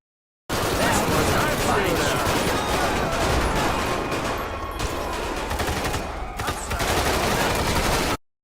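Unsuppressed gunfire in a first-person shooter video game, a dense rapid burst of loud shots and rattling reports filling the whole clip almost without pause, with a brief dip midway.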